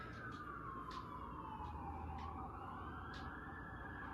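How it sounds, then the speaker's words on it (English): A wailing emergency siren sweeps slowly in pitch at a distance, over a steady roar of traffic on a busy street. "Sorry about the sirens."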